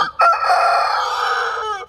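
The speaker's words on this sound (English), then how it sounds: "We have been trying to teach these chickens how to be chickens" A rooster crows once on a homestead, loud and close, one long drawn-out cock-a-doodle-doo that holds steady before tailing off.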